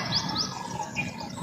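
Small birds chirping outdoors near a rural roadside bus stop on a morning in the Konkan countryside, a few quick high tweets over a soft steady ambient hum, fairly near.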